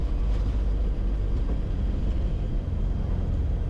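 Heard from inside the cockpit, Challenger 605 business jet engines at takeoff thrust produce a steady, loud low rumble and roar, continuous and unbroken throughout.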